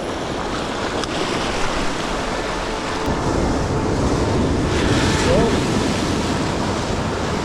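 Heavy ocean surf churns against coastal rocks at a fishing spot, a broad roaring wash of water with wind buffeting the microphone, swelling louder in the middle as a big wave breaks, with faint voices.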